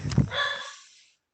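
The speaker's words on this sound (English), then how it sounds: "oh, I'm sorry about the dog." A dog gives a short sharp bark and then a high whimpering whine, close by and fairly loud, heard in a room during an online talk and fading out within about a second.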